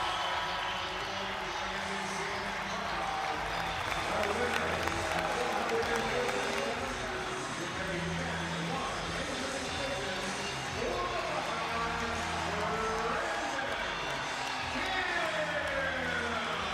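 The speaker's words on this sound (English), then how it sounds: "This Ohio State crowd comes to its feet here inside the Covelli Center." A crowd at an Ohio State college wrestling dual meet inside the Covelli Center rises with loud, sustained cheering and applause that fills the arena throughout, with an announcer's voice running over the roar.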